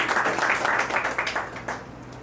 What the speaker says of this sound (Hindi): तो जोरदार तालियों के साथ स्वागत करें कैप्टन अजय जी का।